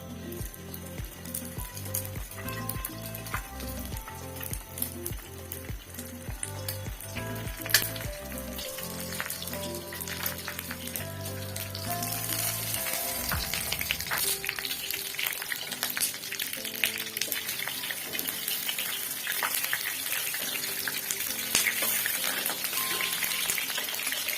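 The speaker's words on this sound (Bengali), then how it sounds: "টিকাগুলো একটা একটা দিয়ে দিব তেলের মধ্যে" Kebab tikka pieces fried in hot oil produce a continuous bright sizzle with bubbling and spitting throughout, while a tonal hum plays underneath in the first half before the frying noise grows denser and louder.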